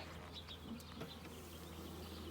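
Honeybees buzz softly in an opened hive during an inspection after a little smoke, a faint steady hum with a few brief closer fly-bys and no talk.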